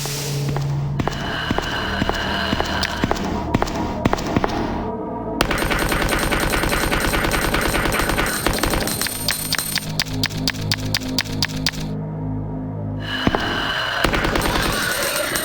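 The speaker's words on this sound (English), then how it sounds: "from here, we're gonna equip this submachine gun" Rapid submachine gun fire in an action horror game, long rattling automatic bursts separated by short gaps, loud and close over a faint musical drone.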